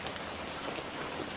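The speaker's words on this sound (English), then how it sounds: "as you can see, it's raining" Steady rain falls outdoors in a dense, even hiss of drops with no break, close and fairly loud, and no voices.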